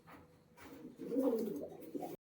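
Low, soft cooing calls from pigeons, a few rolling notes close by with no talking.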